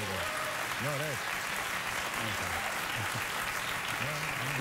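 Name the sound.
studio audience applause played back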